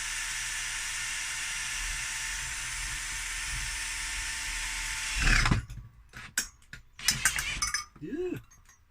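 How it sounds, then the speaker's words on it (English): A power drill bores a hole in a Peltier fan project, whining loud and steady for several seconds before stopping, followed by a few scattered clicks and clunks. "we don't want the drill slipping and damaging that"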